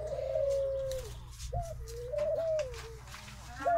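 Turtle doves cooing in an aviary, a few soft, drawn-out gliding coos close by, separated by brief pauses.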